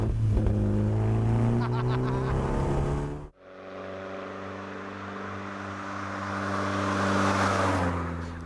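A car engine hums loudly with steady harmonic tones, cuts out abruptly, then drones on at a lower pitch before rising again toward the end.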